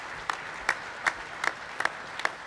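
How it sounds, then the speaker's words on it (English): Sparse, evenly spaced claps ring out over a quiet hall at a bakers' union annual conference, about one every half second, crisp and fairly close. "They deserve our applause for their commitment."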